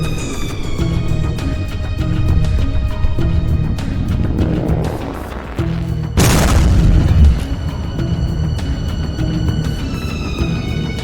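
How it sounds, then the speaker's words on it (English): A meteor impact explosion builds from a deep rumbling roar into a huge booming blast midway, followed by a sustained heavy rumble. "The 7-mile-wide meteor that wipes out the dinosaurs is about 3 billion times more powerful than both nuclear bombs dropped on Japan."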